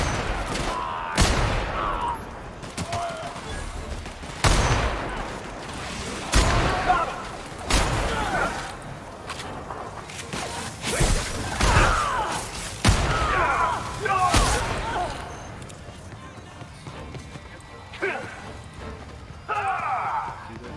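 Sporadic gunshots crack out in The Outer Worlds, a dozen or so sharp reports at irregular intervals, some close and loud, others softer, with someone talking now and then between them.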